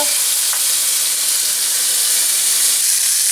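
Onion pieces and ham fry in a pan, a loud, steady, dense sizzle filling the whole stretch with only faint occasional pops beneath it.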